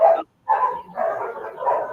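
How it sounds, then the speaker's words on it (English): A dog barks close by in a short burst: one sharp bark, a pause, then a run of yipping, whimpering barks, without speech. "that's not my dog."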